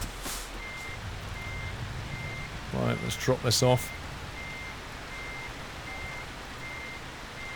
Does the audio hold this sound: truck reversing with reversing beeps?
yes